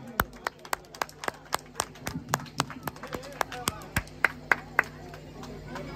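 Claps from a small crowd honoring the runner-up team at a football event in Khidirpur, sharp uneven claps in a loose rhythm of a few hands close by, with chatter and voices underneath.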